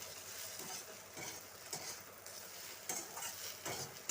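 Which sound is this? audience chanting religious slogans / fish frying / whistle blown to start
fish frying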